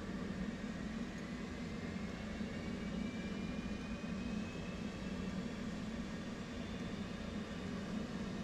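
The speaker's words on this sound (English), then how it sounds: "Crank the right engine. While the engine is spooling up," The right engine of an F/A-18 in the DCS combat simulator spools up, a steady droning hum with a faint rising whine that slowly climbs in pitch, moderately quiet and continuous without speech.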